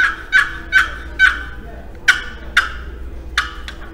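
A series of about seven turkey yelps, clear and fairly close, evenly spaced with brief pauses and a short pair at the end, heard during a fall turkey hunting seminar, likely from a call being demonstrated; a faint hum runs underneath.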